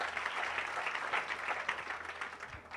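Church congregation clapping hands together, a dense, steady patter of many hands at moderate distance, fairly soft and continuous for a few seconds with no voices clearly standing out.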